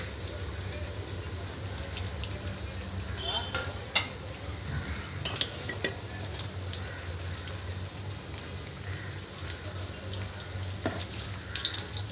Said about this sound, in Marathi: आपले वडे तळतात